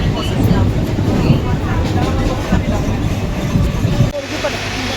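A passenger train rolls along the rails on the way to Uran, with a steady, loud rumble and rattle close around the listener as people talk over it. The noise drops suddenly near the end.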